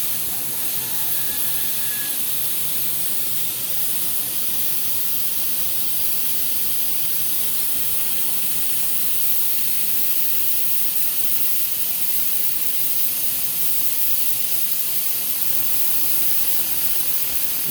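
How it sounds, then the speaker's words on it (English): Compressed air hisses steadily through a dirt bike fuel injector to dry it after cleaning, one sustained close blast lasting throughout with no talk. "I'm just going to let some air go through it and kind of dry it out."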